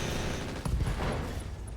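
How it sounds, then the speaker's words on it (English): An AC5 ammo explosion on a mech in the RogueTech game, a short muffled burst rising out of a steady background rumble about two-thirds of a second in, then fading back into the din. "And we got an AC5 ammo explosion there."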